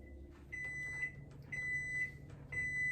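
Kitchen timer beeping after ten minutes of boiling eggs, three evenly spaced electronic beeps about a second apart, faint over a low background hum.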